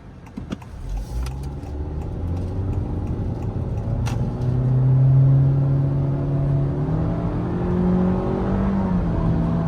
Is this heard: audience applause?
no